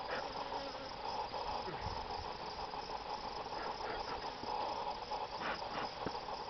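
Honeybees buzz steadily around an open hive that is being smoked, a dense, continuous hum with faint intermittent rustles and no pauses.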